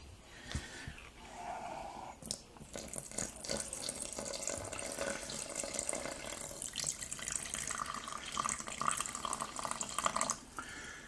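Water pours and splashes steadily into a bread maker pan resting on kitchen scales, a close trickling stream with small clunks and handling noises, getting fuller and brighter toward the end.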